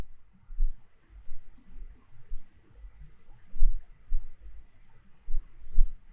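Mouse clicks in a presentation view: a steady series of sharp, close, quiet clicks, roughly one or two per second, over faint room noise with no talking.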